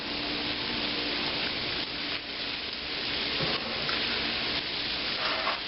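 A wine and lemon sauce simmers and reduces in a pan, a soft, continuous bubbling sizzle with faint stirring, steady and moderately quiet throughout.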